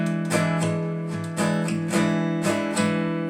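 An acoustic guitar strums open, ringing chords in a steady rhythmic pattern without any muted percussive strokes, each stroke sustaining clearly, played alone at moderate volume.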